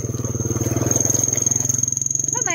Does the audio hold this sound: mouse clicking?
no